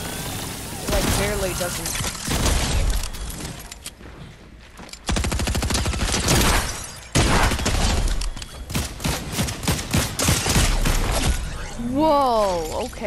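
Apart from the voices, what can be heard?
shotgun firing in the video game Fortnite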